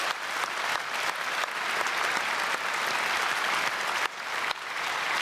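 A church congregation at a special early-morning service bursts into sustained applause for the senior pastor, dense clapping filling the hall evenly with a couple of brief dips before it carries on.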